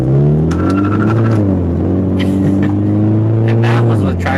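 A 2017 Subaru BRZ automatic accelerates hard with a loud, rising engine drone and road rumble, a person speaking over it; faint tire squeal is not distinct.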